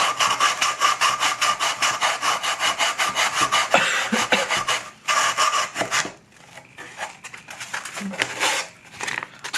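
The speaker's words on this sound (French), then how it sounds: "Donc maintenant, on va prendre du papier de verre." Coarse-grit sandpaper rasps back and forth inside a homemade wooden key holder in fast, rhythmic strokes, close and loud, slowing into scattered scrapes toward the end.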